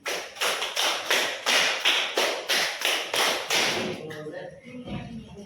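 In a classroom, students clap a five-beat pattern twice in unison, ten or so sharp, evenly paced claps, loud and near, then chatter and murmuring voices as it ends.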